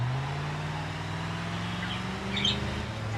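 Engine drone of a car driven around in the BeamNG.drive video game, a steady low hum with rising tonal harmonics holding throughout at even loudness, with a brief faint chirp near the end.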